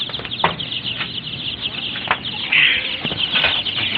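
Dong Tao chickens in a breeding pen cluck and squawk near the microphone, with a short burst of wing flapping partway through, over a dull background rumble and no clear talking.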